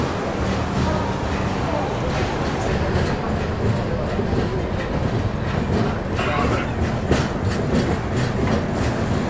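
A passenger train on the Konark Express route between Vijayawada and Bhubaneswar rumbles along the rails with steady clattering wheel noise, loud and continuous, while someone talks over it.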